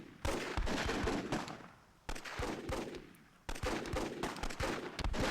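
Friendly-fire RPG shots in the game Myth II come as three loud bursts of blasts and crackling fire, each fading before the next volley starts.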